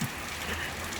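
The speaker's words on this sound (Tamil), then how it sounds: "ஆகாயத்திலிருந்து தண்ணீர் கொட்டுகிறது." Steady rain pours down outdoors in a continuous, even wash of drops that stays close and moderately loud for the whole moment.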